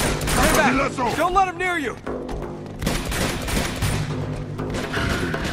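Rapid gunfire crackles in Uncharted 2 during a shootout in the Broken Paradise chapter, loud and continuous, mixed with shouted voices and mechanical clatter.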